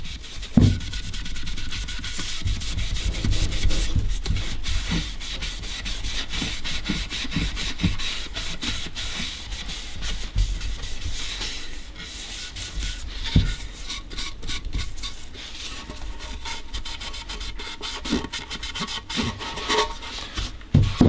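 Steady, close rubbing and scrubbing as russet Angelus leather dye is worked by hand into birdseye maple, a continuous rasping friction with small irregular scrapes and knocks throughout.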